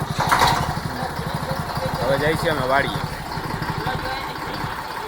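A tractor engine idles with a steady, rapid chugging pulse nearby while people talk over it.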